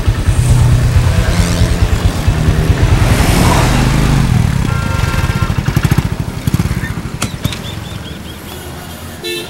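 A motorcycle engine runs loud and close with a throbbing, pulsing drone that holds steady for several seconds, then eases and fades toward the end.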